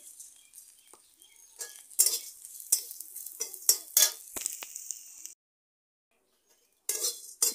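Flattened rice (chira) frying and being stirred in a pan for payesh, with steady scraping and clinking of a spoon over a soft sizzle, a few sharper knocks, then a brief pause before stirring resumes.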